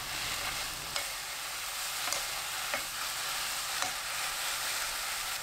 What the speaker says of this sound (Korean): 팽이버섯, 청양고추, 홍고추, 파 넣고 볶아주세요